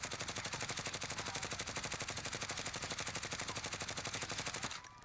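Grau 5.56 rifle firing full-auto in Call of Duty Warzone, a long unbroken stream of rapid evenly spaced shots for about four and a half seconds before it stops abruptly.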